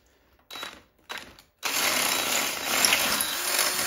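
A power drill bit bores a hole through the metal wall of an On-Stage or Proaim Vanguard utility cart, starting with two short bursts and then a loud, sustained, grinding whine.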